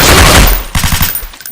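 Gunfire in a shooter video game: a loud sustained burst at first, then a rapid string of sharp automatic shots that thin out into scattered bangs.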